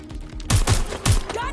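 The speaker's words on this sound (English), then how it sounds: "Gunfire!" Gunfire in the video game Watch Dogs Legion: three loud, sharp bursts of shots in quick succession, with faint background noise and a brief tonal sound near the end.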